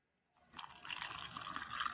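Hot coffee, measured at 135 degrees, pours from a 12-volt DC appliance into a cup already holding creamer, a soft steady liquid stream that starts quietly and then runs continuously.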